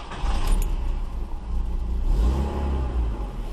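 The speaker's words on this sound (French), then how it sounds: "je procède à la mise en marche du véhicule" A car with a somewhat weak battery being started during an ABS sensor diagnosis, giving a loud close engine rumble with a short rise in revs and faint key jangling, no voices.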